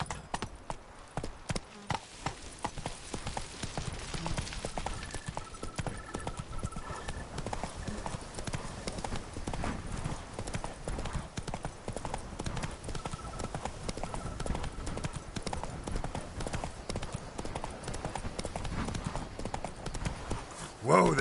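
Roach, the horse in The Witcher 3, trots with steady rhythmic clip-clop hoofbeats at close range. Game music and character speech run over the hooves for most of the stretch.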